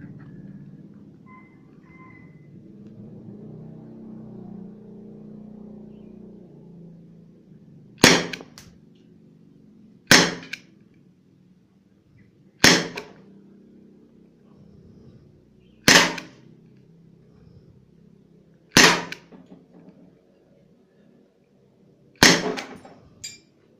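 A KWC Colt Python .357 BB revolver fires six sharp, snappy shots, spaced roughly two to three seconds apart, each a crisp crack with a short ring, against a quiet outdoor background.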